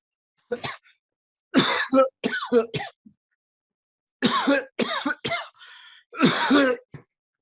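Several harsh coughs and throat clearings in separate bursts with pauses between, close and fairly loud.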